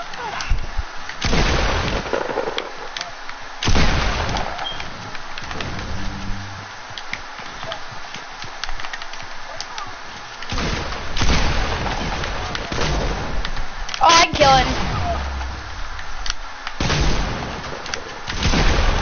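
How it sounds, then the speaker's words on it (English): Repeated heavy shotgun blasts ring out in a PS4 shooter game, loud booming shots arriving in irregular bursts, some spaced seconds apart and others close together, amid steady game noise. "Heavy shotgun."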